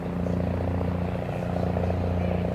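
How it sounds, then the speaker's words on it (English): A helicopter flies overhead, a loud steady rotor drone with a rhythmic low chop that fills the whole short stretch. "a helicopter is flying right overhead"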